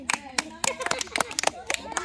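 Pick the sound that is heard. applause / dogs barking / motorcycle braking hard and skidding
applause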